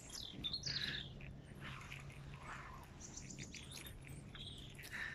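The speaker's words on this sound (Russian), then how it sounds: "У нас такая тишина, и только птички поют." Small birds sing and chirp outdoors on a quiet, sunny spring day, with repeated bright calls and trills near and far over soft ambient background and no talking.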